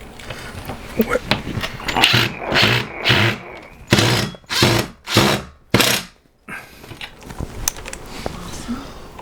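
A power drill drives screws into a shelf during a home shelving build, sounding as several loud whirring bursts of a second or so each, separated by short pauses, with people talking around them.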